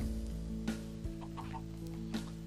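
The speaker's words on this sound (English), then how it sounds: "I see there's chickens here, so that's good." Chickens in a survival video game cluck in short, scattered bursts over a steady, droning hum.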